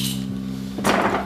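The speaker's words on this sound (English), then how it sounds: "Got a little pair of pliers to pull these plastic parts off of here." Small pliers pull plastic parts off an object, giving one sharp, near crack and clatter after a second of steady background hum.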